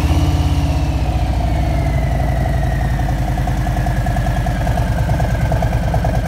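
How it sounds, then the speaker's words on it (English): Idling 2020 Harley-Davidson Road Glide Special with a 114 engine and big exhaust, a steady, loud, throaty low rumble with an even pulsing beat that holds near and constant throughout, with no talk over it. "It's got that real throaty 114, big exhaust note."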